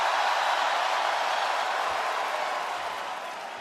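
A packed arena crowd roars at a WWE Raw wrestling show in Portland, Oregon, a dense, loud, continuous wash of cheering that eases slightly toward the end.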